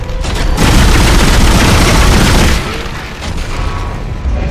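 Loud, dense gunfire from the Dead Space video game, a sustained rapid barrage of booming shots close up that fills the clip before easing off briefly, then resuming.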